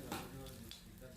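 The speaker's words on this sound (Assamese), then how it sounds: "পিঁয়াজখিনি প্ৰায় ভজা হৈছে" Onions frying in oil in a wok for a duck and ash gourd curry, a close, soft continuous sizzle with a couple of quick stirring scrapes.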